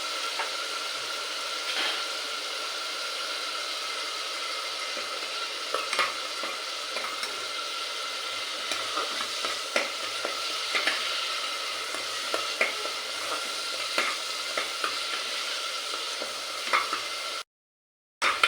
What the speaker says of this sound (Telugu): ఇలా ఫ్రై చేసుకుందాం. అలాగే 1 స్పూన్ అల్లం వెల్లుల్లి పేస్ట్,